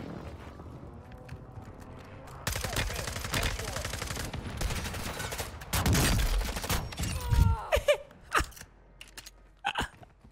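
Gunshots ring out in the Warzone 2 video game, sharp cracks arriving in quick separate bursts near the end after a stretch of noisy gunfire and movement, with a faint voice in the background.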